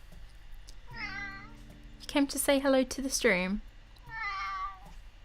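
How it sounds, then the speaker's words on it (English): A pet cat indoors meows several times, drawn-out calls near the microphone with a louder burst of yowls in the middle, while someone speaks to it between the cries. "You are the noisiest cat I've ever known in my life."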